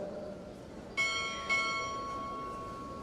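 Two ceremonial bell strikes ring out half a second apart at a Navy Recruit Training Command chief petty officer pinning ceremony, each a bright metallic clang that hangs and slowly fades over a quiet hall.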